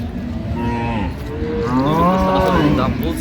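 A male calf moos at a cattle market in Dinajpur, a drawn-out, wavering bellow that rises and swells loud and close, heard alone over a noisy crowd background.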